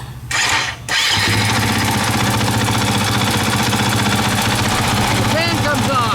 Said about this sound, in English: Now if we start the bike,